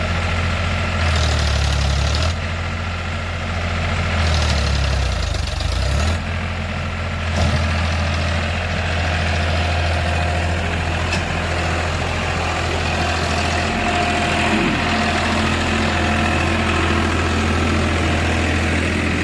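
A Farmtrac 45 tractor engine runs under load while hauling borewell equipment, a loud, steady, low diesel rumble with slight surges in effort, close and continuous throughout.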